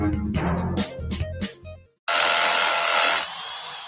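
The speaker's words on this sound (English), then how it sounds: "Man, that was easy. Bulldog Rotary Hammer!" A Bosch Bulldog rotary hammer drilling into concrete starts abruptly after a brief silence, giving a loud, steady, grinding roar that follows a stretch of other mixed sounds.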